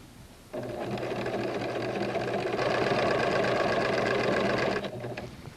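A sewing machine runs continuously while stitching a casing on a garment, a steady close mechanical whir that starts abruptly, speeds up slightly midway, and slows at the end.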